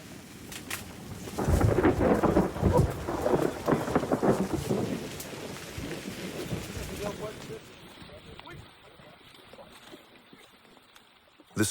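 Heavy rain drums steadily in the Amazon as thunder rumbles through a storm, loudest early on, then the downpour eases and thins toward the end.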